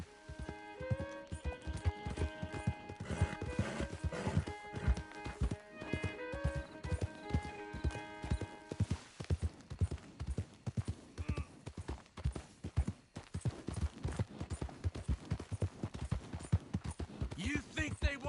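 Horse hooves clip-clopping in Red Dead Redemption 2, a steady rhythmic trot close by, first under a music bed and then with game dialogue spoken over it.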